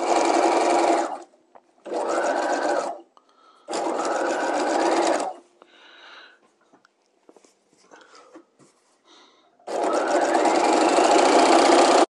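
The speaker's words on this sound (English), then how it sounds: "I just stitch off one and I just grab another one and start stitching that" A sewing machine stitches dress bodice pieces in four loud, close bursts of rapid whirring, separated by pauses filled with faint handling sounds of fabric being shifted.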